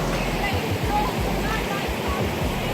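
Steady roaring rush of a waterfall at a jungle site in Munduk, Bali, loud and continuous throughout with broadband churning noise and low rumble; no one speaks.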